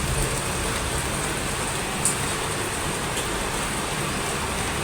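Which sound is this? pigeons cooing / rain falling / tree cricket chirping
rain falling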